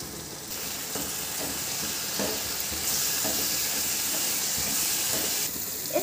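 Onion and spices fry in a kadai for kadai paneer, giving a steady close sizzle and hiss with occasional soft stirring scrapes.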